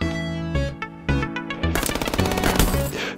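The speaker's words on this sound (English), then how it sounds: "Why do you have a machine gun?" Rapid machine gun fire bursts out in the video game FPS Chess, loud close rattling volleys that start in short stutters and then run into a dense continuous stream.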